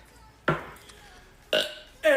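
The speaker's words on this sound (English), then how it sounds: "And the burp." A loud burp after a shot of mayonnaise and vodka, followed by two more sharp throaty bursts close to the microphone, with quiet room sound between them.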